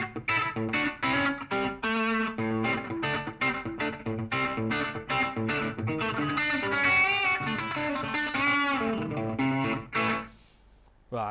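An electric guitar run through a BOSS GT-1000Core processor with a slapback echo effect plays a quick run of twangy picked notes and chords, with a short repeat trailing each note.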